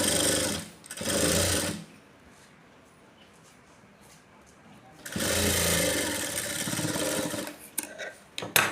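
Sewing machine stitching a blouse, running in two loud continuous bursts separated by a quieter stretch of a few seconds, close up.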